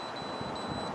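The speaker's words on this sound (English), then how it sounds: "that's just the beep to make sure it's on and working" A SportDog Yard Trainer 105 remote collar gives a steady, thin high beep over heavy broadband background noise, held for about a second.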